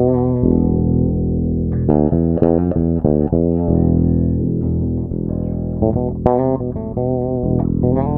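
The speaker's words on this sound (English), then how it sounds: "I turn the Q filter on, and now I'm searching for a sweet spot in the mid-range." An Alembic bass played on its bridge pickup runs through a Q filter tuned to a wah sweet spot in the mid-range. Loud plucked notes and quick repeated figures ring out alone, with sustained, vocal-like filtered tones.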